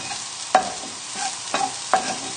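Garlic and shallots sizzle in a pan while being stirred, a soft frying hiss broken by a few sharp scraping strokes of the utensil.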